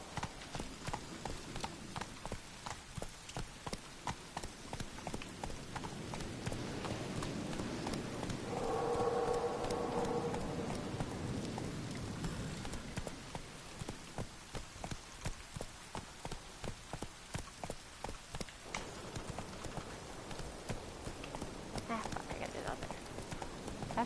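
A horse named Shadowmere gallops in The Witcher 3 video game, its hooves drumming in a quick continuous clip-clop over soft rainy ambience, while someone talks over it.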